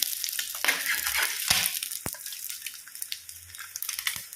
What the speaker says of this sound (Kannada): ನಂತರ ಈ ಮೊಟ್ಟೆಯನ್ನು ಈ ರೀತಿ ಫ್ರೈ ಆಗಲಿಕ್ಕೆ ಹಾಕಿ